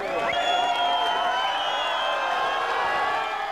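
Large crowd at the Berlin Wall checkpoints on the night the wall fell, a dense, steady roar of many voices with cheering and whoops, loud and continuous throughout.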